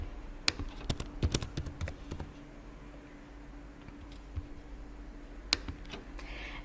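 Keys clacking on a computer keyboard as a maze name is typed into a Java program: a quick cluster of crisp clicks early on, a quiet pause, then a lone tap near the end, all faint with no voices.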